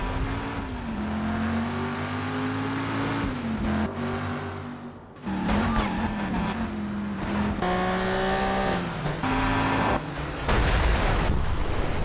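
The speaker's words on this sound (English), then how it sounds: "he's driving his own car, 1970s Dodge Challenger RT" A 1970s Dodge Challenger RT in a video game car chase, the engine roaring and revving up and down in repeated surges with gear changes and passing whooshes, loud and close throughout.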